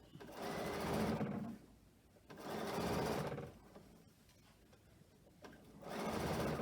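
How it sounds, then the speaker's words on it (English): Sewing machine stitching the fabric edges of a scrunchie together in short bursts, three runs of about a second and a half each, separated by quieter pauses, close and clear. "you're putting all the edges together and just stitching"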